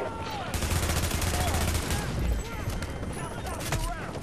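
Rapid gunfire bursts from The Division video game crackle loudly and continuously, layered bursts of automatic shots over a dense mix with a player talking throughout.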